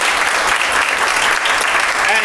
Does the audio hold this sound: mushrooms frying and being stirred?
no